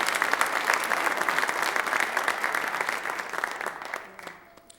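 Sustained applause from an audience at the Canton Township State of the Township Address in the Village Theater, a dense steady clapping that fades out near the end.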